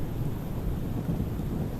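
Thunderstorm rumble outdoors, a brief continuous low roar with a wind and rain texture, steady and unbroken, with no voices.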